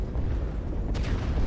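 Deep rumbling booms from explosions in the video game Final Fantasy XV, a steady heavy low roar with a sharper burst near the end, loud and continuous.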